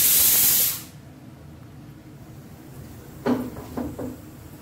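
Flat beans cook on high heat, opening with a sharp burst of sizzling hiss that quickly dies away to a quiet simmer, followed by a few light knocks of a utensil or pan.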